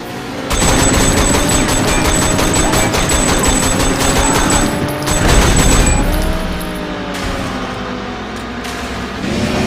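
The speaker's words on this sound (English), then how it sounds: "catch up to an enemy, shoot out his tires, and then speed away to the next target" Rapid bursts of gunfire crackle over a roaring car engine during a driving chase in the Sleeping Dogs video game, loud and sustained with a sharper flurry of shots midway.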